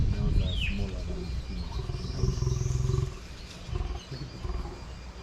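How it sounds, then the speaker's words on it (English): A lion's deep rumbling growl rolls through, low and throaty, over a noisy crowd and chirping birds in the background at a zoo in Entebbe, Uganda. "the growl of the lion is the most terrifying sound ever"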